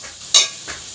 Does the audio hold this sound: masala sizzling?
yes